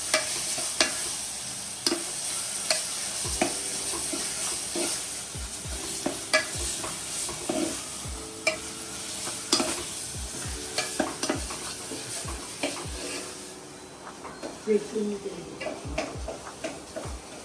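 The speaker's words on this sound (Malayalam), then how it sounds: "ഇനി സവാള വഴന്ന സവാള അരപ്പിട്ട് നല്ലോണം ഒന്ന് മൂപ്പിക്കണം." Onion paste sautés in oil with vinegar, cumin, mustard seed, cinnamon and cloves for beef vindaloo, a constant close sizzle punctuated by repeated clicking and scraping spatula strokes against the pan, with no talking.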